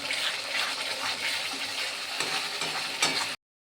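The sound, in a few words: sautéing spice paste with Kashmiri chilli powder in pan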